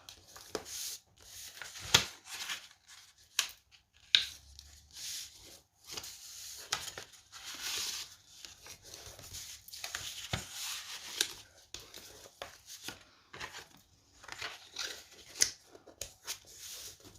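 A bone folder scores and creases paper for card making: soft, close, intermittent scraping and rubbing strokes, with quiet pauses between them and no talking.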